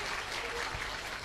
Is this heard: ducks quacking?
no